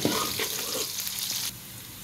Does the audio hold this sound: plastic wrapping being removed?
no